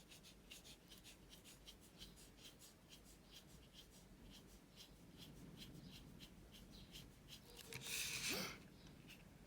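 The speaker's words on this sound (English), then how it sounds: "just love the sound of this pen brush on the paper" Soft, quiet scratching and brushing strokes of a brush pen on paper while drawing a palm tree, repeating in gentle rhythm, with a brief louder rustle near the end.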